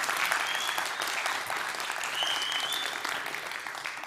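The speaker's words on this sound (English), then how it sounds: "Give him a round of applause." Audience applause at a TEDx climate conference at Wageningen University: a crowd claps steadily and thickly for a few seconds, with a faint whistle-like tone briefly rising above it.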